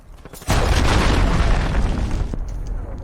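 A missile explosion in a video game erupts suddenly with a loud, broad boom, then holds as a rumbling roar for a couple of seconds before fading into quieter background sound.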